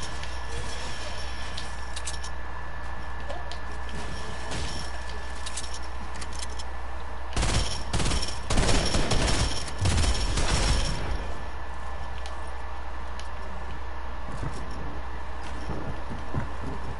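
Fortnite gunfire erupts in a dense burst of rapid shots lasting several seconds, loud against a steady background hum of game ambience, with quieter stretches before and after.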